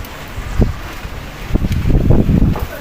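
Strong wind blows across a chawl room balcony fitted with plastic sheeting, rumbling in loud, uneven gusts that buffet close by and build toward the end.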